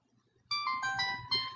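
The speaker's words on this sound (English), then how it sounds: "that little bell that you just heard, possibly, is a verification code" A short chiming notification bell rings from a phone as a Google verification code arrives, a clear bright tone sounding twice in quick succession in a quiet room.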